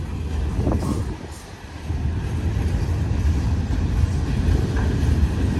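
A CSX freight train of TTX boxcars rumbles steadily past at close range at a railroad crossing, a low continuous roar with wind buffeting the microphone.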